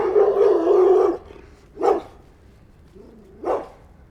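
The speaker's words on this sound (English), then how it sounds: "Not what these dogs are all about, though. They're going to bark at us." Dogs bark outdoors on a city walk, one long burst followed by two separate single barks at moderate distance.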